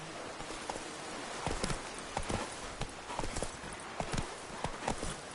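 Roach, a horse in The Witcher 3, gallops with rapid, rhythmic hoofbeats on the ground, close and continuous for a few seconds, with no voices.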